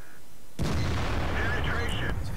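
A tank cannon fires in World of Tanks, a single sharp, loud boom that breaks out of near silence and rolls into a long, dense rumble lasting about a second and a half before it fades.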